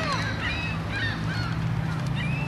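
Geese honk repeatedly at a park pond in Kalispell, Montana, with many overlapping calls from a flock close by over steady outdoor background noise, and no talking.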